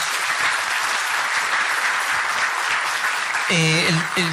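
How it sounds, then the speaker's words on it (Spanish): Applause from a symposium audience for invited guests, a dense steady wash of clapping that fills the room, then a voice speaks near the end as it fades. "un aplauso por favor para nuestros invitados"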